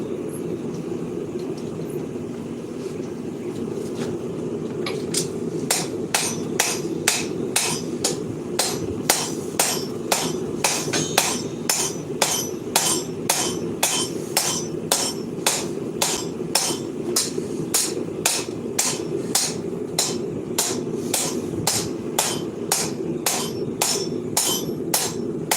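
Hammer blows drawing out a Viking seax blade at the forge, a steady run of sharp metallic strikes close by, quickening after a few seconds and continuing in an even rhythm over a low background rumble.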